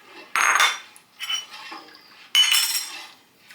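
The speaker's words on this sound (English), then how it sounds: "Give it a good mix." Metal spoon scraping and clinking against a cooking pot as salt and sugar are stirred into food, in bursts of clattering with short pauses, close and fairly loud, no talking.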